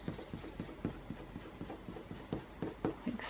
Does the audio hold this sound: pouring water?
no